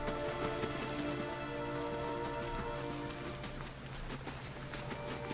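Steady rain falls in the fantasy role-playing video game Pillars of Eternity, a dense, even hiss of drops on surfaces that continues without a break, with no talking.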